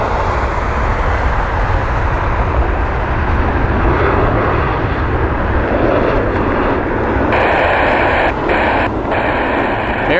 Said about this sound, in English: They use pretty much all of 24 right to get off the ground.